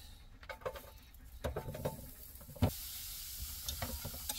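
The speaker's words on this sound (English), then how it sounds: "Already got the pan on, so I'll stick some onion in there now." Onion sizzles in a hot pan, a steady low frying hiss with scattered crackles and a few sharper pops and stirring clatters, close and moderately loud.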